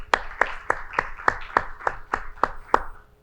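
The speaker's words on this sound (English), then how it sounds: "I want a big round of applause for the people that are from the supporting committee" Hand claps at a steady, evenly spaced rhythm, about ten sharp strikes in three seconds, at a conference opening for a supporting committee; it sounds more like one or a few people clapping in time than a broad crowd ovation.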